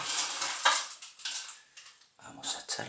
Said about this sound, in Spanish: Le vamos a echar hielo picado.